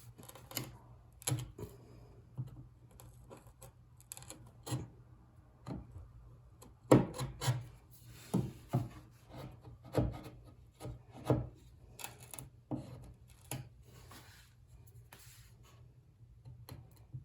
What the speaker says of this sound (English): you should be able to just kind of come in here and clean it up like that, but my chisel's not as sharp as I'd like it to be